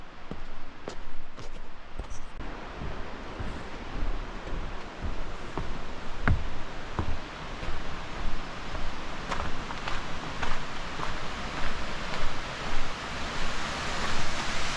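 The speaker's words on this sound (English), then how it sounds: "the water's flowing pretty good, as you might be able to hear on the camera" Constant broad rush of river water flowing through a gorge, loud and unbroken, with occasional faint knocks and clicks.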